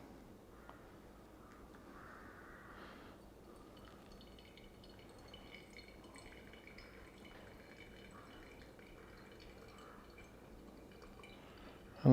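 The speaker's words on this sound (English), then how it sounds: "I'm just going to go up to 250, pour in a circular motion" A slow, thin stream of water is poured over ground coffee in a V60 in a circular motion, a faint, continuous trickle and drip close by with a soft gurgle, followed by a sudden knock at the end.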